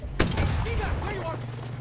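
A single sharp, loud gunshot bursts out in a modded Far Cry 6 shooter session. Voices talk right after it.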